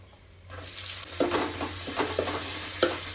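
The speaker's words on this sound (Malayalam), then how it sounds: "കൊച്ചുള്ളി ഇട്ട് കൊടുക്കാവേ" Shallots dropped into hot oil with ginger and garlic burst into a loud sizzle, followed by steady frying and several scraping stirs of a spoon in the pan.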